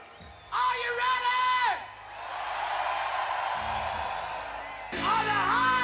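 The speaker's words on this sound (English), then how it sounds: "No need to stop screaming, no need to stop clapping." Festival crowd at a Hives rock show at Rock im Park 2012 screaming, whooping and cheering loudly, with sustained roaring noise between bursts of someone shouting over a PA.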